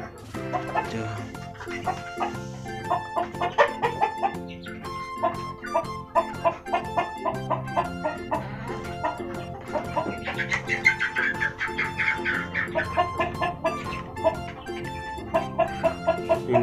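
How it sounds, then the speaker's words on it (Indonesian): Native Indonesian ayam buras chickens, including a red rooster, in a clean coop give close, repeated clucks and squawks in an uneven, busy rhythm, with occasional brief crow-like calls. "Ini ayam merah, ini jantannya itu."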